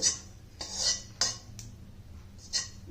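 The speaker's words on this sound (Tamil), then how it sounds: "சோம்பு எடுத்துருக்கேன் அதையும் போட்டு இதை வந்து ட்ரை சட்டியில் வறுத்துக்கிடலாம்" Fennel seeds dry-roast in a dry pan while a utensil stirs them, giving a series of light metallic clinks and scrapes at uneven intervals over a quiet hiss.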